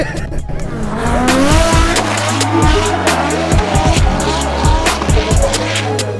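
A Toyota Supra drift car at a French drift championship, its engine roaring loudly as the tires squeal continuously through a long slide, with revs rising and falling near the microphone.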